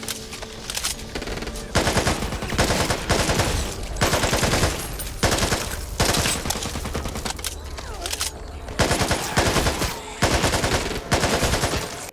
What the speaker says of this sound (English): the AK-47 sounds like a pop gun